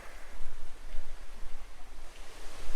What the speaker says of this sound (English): The water's picking up here. It comes down the creek.